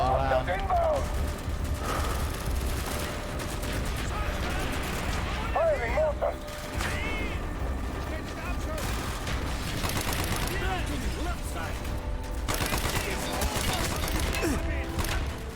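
Dense gunfire from the Call of Duty: Black Ops campaign, rapid machine-gun bursts and bangs layered with explosions and game effects, continuous and loud, with voices talking over it.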